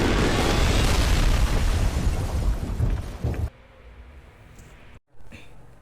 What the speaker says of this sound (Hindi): और हमेशा की तरह इस जगह को भी बम से उड़ा देते हैं साहब